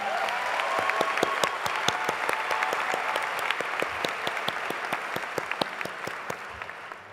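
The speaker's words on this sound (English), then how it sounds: "I'd ask for a big round of applause for our Associate Deans, Directors, and faculty" Sustained audience applause fills the hall at a university graduation ceremony, a dense, steady wash of many hands clapping with sharp individual claps standing out, fairly loud throughout and fading slightly at the very end.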